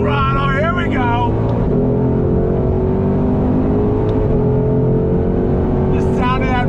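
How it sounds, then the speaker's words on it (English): A 2021 Ford Shelby GT500 with its V8 engine accelerating on a track, a loud, close, rising engine roar that climbs steadily in pitch, with someone talking over it at the start and the end. "The sound of that V8."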